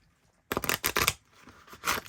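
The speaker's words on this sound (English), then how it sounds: "And I got to shuffle these cards too." A deck of tarot cards is shuffled by hand after a short silence, a series of close, crisp riffling and flicking bursts with brief pauses between them.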